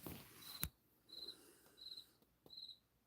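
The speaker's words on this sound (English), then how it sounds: "Yes, I can hear the damn cricket." A cricket chirps in a basement: four short, bright trilling bursts spaced evenly apart, faint against quiet surroundings, with a couple of sharp clicks mixed in.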